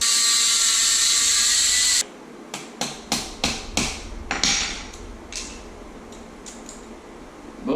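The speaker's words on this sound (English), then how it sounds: "I'll be taking a flathead, giving a couple hammers on there and splitting it the rest of the way" Several sharp hammer blows strike a flathead screwdriver wedged into a part on a car axle during an MR2 driveline job, a rapid series of close metallic taps after a steady loud whir stops.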